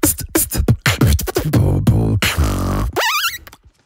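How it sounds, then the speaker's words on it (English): Solo beatboxing run through a high pass filter on a BOSS RC-505 MKII looper: rapid punchy kicks and snares give way to a sustained buzzing bass tone, then a warbling vocal sweep, loud and close. "What this is essentially doing is giving me a slight bass boost in the low frequencies to bring up the sub of my beatboxing."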